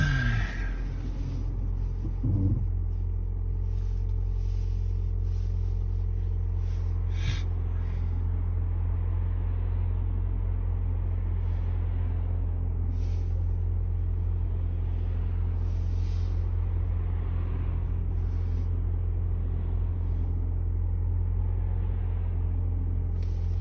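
A car on an afternoon drive hums with a steady low engine and road rumble from inside the cabin, continuous and fairly loud, with occasional faint clicks and rattles.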